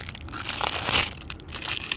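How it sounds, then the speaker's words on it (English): A brand new detailing clay block being pulled from its plastic bag, a close, brief burst of crinkling and crumpling plastic. "So you will take it out of the bag."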